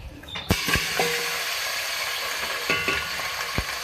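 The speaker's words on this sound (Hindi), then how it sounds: "यहाँ पर मैंने ऑयल लिया है, इसमें मैं पहले बीफ का गोश्त ऐड करूँगी 1/2 kg।" Half a kilogram of beef sizzles and crackles as it is added to hot oil in a karahi, with a few sharp clinks and stirring knocks over the steady frying hiss.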